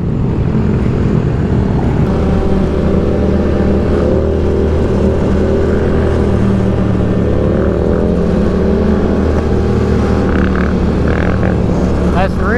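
Yamaha R7 motorcycle ridden through Lincoln, Nebraska, its engine droning steadily with shifting revs under loud wind rush.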